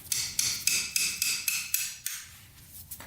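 Metal hammer strikes on the cylinder of a locked-up, mouse-infested Kawasaki dirt bike: about nine sharp, evenly spaced blows, close and loud, with a short pause before a final hit.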